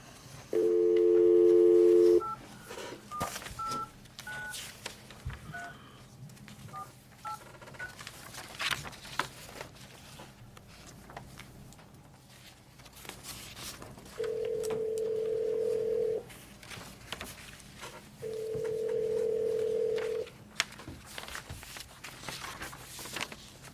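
A speakerphone at a school board meeting dials out for a call-in, giving a short burst of touch-tone beeps followed by two long electronic ring tones spaced a few seconds apart in a quiet room.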